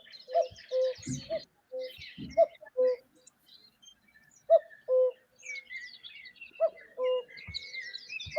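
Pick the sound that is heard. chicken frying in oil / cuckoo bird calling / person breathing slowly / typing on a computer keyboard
cuckoo bird calling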